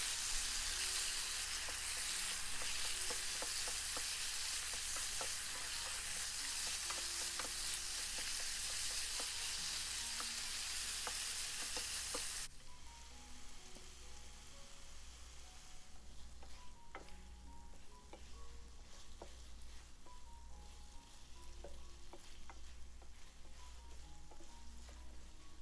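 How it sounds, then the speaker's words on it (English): Marinated chicken stir-fries in a wok with dried chili and peppercorn for Kung Pao chicken, producing a broad hissing sizzle that drops in level halfway, with intermittent utensil clinks and scrapes. "Add the marinated chicken in. Spread the meat and stir until the meat changes color."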